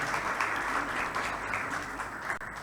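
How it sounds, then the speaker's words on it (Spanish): Audience at a provincial women's congress panel applauding, a dense steady wash of clapping from many hands throughout, fairly close and even in loudness. "Un fuerte aplauso."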